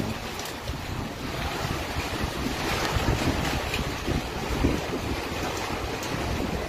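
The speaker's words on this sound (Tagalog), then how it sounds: "Lakas ng hangin." Strong wind roars and buffets continuously in darkness during an East Texas tornado warning, with rushing gusts and a churning, wave-like wash underneath, loud and close with no voices.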